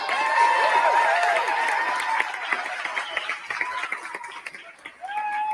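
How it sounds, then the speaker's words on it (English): Audience applause in an Austin theater as a film director walks out for a Q&A, a fairly full clapping wash that thins and grows patchier toward the end, with voices mixed in. "Golf clap, y'all. Golf clap."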